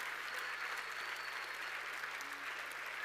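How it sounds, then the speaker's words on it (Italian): Audience applause at a space exploration talk in Italy, a dense, even wash of clapping that holds steady throughout at moderate distance, with no voices on top. "Prenditi tutto l'applauso, continuate."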